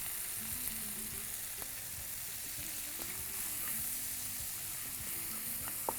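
Peas, carrot, beans and garlic sautéing in a pan, a soft, even sizzle with faint occasional scrapes and taps of a spoon, steady throughout with no voices.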